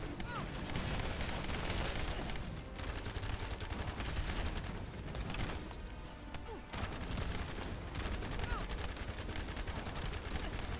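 Dense, continuous gunfire from a shotgun in the sci-fi shooter The First Descendant, a near-constant barrage of blasts and impacts with a brief lull midway, loud throughout with game effects layered in.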